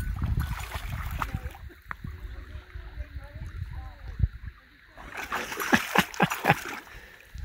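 A dog pushes its face into lake water at a mountain summit lake to pick up a rock, giving splashy bursts near the mic before and after a calmer stretch, while people talk nearby.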